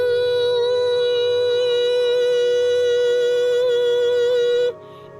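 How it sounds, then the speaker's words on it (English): A steady, sustained ringing tone from a crystal holds unchanged at a constant pitch for several seconds, then cuts off abruptly near the end, with no voices present. "This one's more like a constant ringing in the ears"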